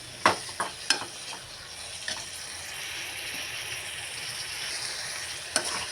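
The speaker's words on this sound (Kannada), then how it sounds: "ಹಂಗೆ ಮಿಕ್ಸ್ ಮಾಡ್ಕೊತೀನಿ ಇದು ನೋಡಿರಿ ಚಲೋತ್ನಂಗೆ ಎಣ್ಣೆಗೆ ಫ್ರೈ ಆಗ್ಬೇಕ್ರಿ" Frying in oil over a low gas flame, a steady sizzle broken by a few sharp scrapes and knocks of a spoon stirring the pan, close and with no talking.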